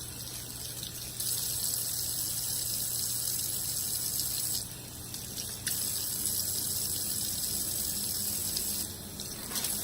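Tap water runs steadily into a sink as makeup brushes, scrubbed with oil and Dawn dish soap over a cleaning mat, are rinsed. The flow is close and continuous, swelling louder and softening in a few stretches.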